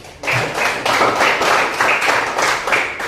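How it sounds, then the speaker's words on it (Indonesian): A class applauds a student group, a burst of brisk, fairly close hand clapping from a small crowd, rising quickly and holding steady. "kita beri aplaus untuk kelompok"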